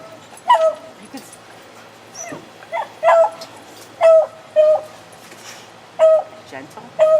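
A dog whimpers and yips in short high whines, about half a dozen spaced cries, eager for a beef jerky treat, with a person speaking between them.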